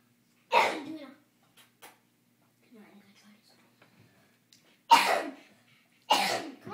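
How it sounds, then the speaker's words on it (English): A child coughs close to the mic in three sharp, harsh bursts, one early and two near the end, separated by quiet. "coughing like he's already been smoking the weed"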